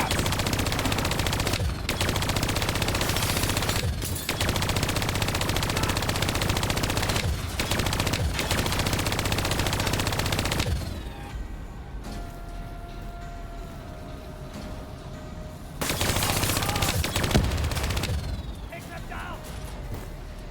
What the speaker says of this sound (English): Shoot down those vats.